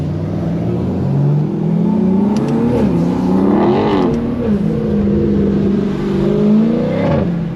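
A third-generation BMW M340i engine revs repeatedly at night in the rain, rising and falling in pitch with a steady drone between the revs, close and loud, with no talk.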